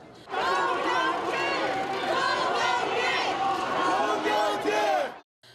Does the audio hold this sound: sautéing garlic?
no